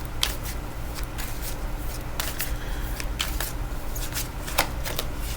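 Tarot cards handled and shuffled during a reading, giving a steady papery riffle with repeated crisp flicks and snaps at close range, with no talking.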